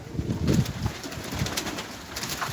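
Pigeons in a coop coo softly and repeatedly at close range, their low throaty calls overlapping against a faint steady background hum.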